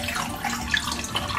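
Water pours steadily into a glass at a dinner table, a continuous close trickle with faint splashy bubbling, heard alone without talk.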